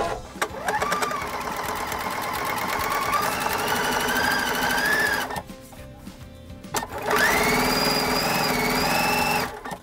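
A sewing machine stitches a quarter-inch seam on a pinwheel quilt block, a loud fast steady whir that pauses briefly midway, then resumes at a slightly higher pitch.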